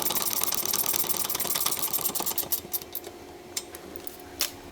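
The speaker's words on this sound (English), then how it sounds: "You want to take a 3/8 wrench and a 7/16. Go ahead and tighten that nut down." A 3/8 and 7/16 wrench tighten a nut on a Big D exhaust, giving a quick run of metallic clicks and ratcheting taps that thin out into a few spaced, sharp clinks.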